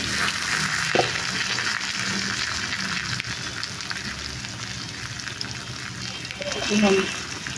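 Teasel gourd pieces, spread across a frying pan and uncovered after steaming, fry with a steady moderate sizzle and watery hiss, a brief clatter near the start and a swell of spattering near the end, with a faint voice underneath.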